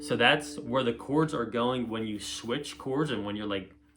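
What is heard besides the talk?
No distinct noise like a dog, phone or traffic.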